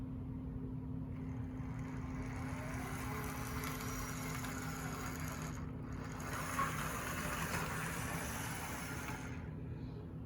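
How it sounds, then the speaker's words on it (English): A Marklin 3030 model locomotive with a 3-pole pancake motor converted to DC runs along the track with a continuous even electric whine and rolling rumble, close and moderately quiet, with a steady tone throughout and slight brief dips. "It's got pretty nice speed control too. Even with that 3-pole pancake style motor."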